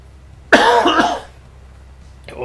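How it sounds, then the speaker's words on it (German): A single harsh cough from a man, close and brief, rising out of a quiet room and leaving near-silence afterward. "Ich habe auch noch ein bisschen Husten."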